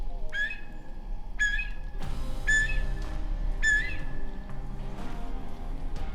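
Quail calls imitated by a person whistling by mouth and with a metal call: four clear rising whistles in two pairs, close and distinct over faint outdoor background noise.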